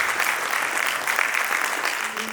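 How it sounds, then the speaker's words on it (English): An audience at a Gujarati unity festival gives a full round of applause, a dense, steady clatter of many hands for a couple of seconds, with a faint tone entering near the end. "One big round of applause for this excellent segment."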